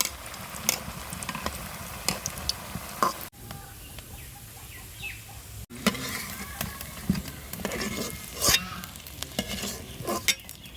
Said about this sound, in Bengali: এবার আস্তে আস্তে জাল দিয়ে ভালো করে ভেজে নেবো।